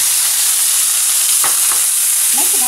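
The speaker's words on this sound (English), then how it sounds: "So I'm getting ready to put the peppers and the onions in. And we're going to saute these." Peppers and onions sauté in oil on medium heat, giving a loud, dense hiss that fills the whole stretch, with a couple of faint clinks of stirring.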